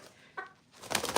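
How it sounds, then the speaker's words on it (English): Silkie chickens shuffle in a box on the floor, giving a short soft cluck followed by a rustle of feathers or movement, close and brief. "there's a box of chickens on the floor"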